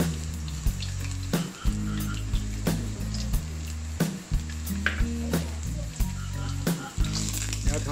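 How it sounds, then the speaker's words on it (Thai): Chopped garlic sizzling and frying in hot oil in a pan while sautéing a mushroom and shrimp stir-fry, a steady crackling hiss running the whole time with occasional stirring clatter, close and loud. "การผัดเจียวกระเทียมให้เหลืองหอมก่อนนะครับ"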